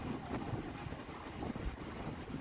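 A Katwa–Ahmadpur MEMU train pulls into Ahmadpur Junction station, a steady rumbling roll of carriages and wheels with some wind buffeting, fairly loud and continuous.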